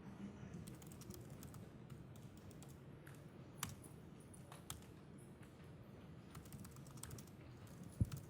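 A computer keyboard is typed on at a Linux terminal, with steady, quiet, close clicking keystrokes spread through the whole stretch, a few sharper taps standing out, and one louder knock near the end.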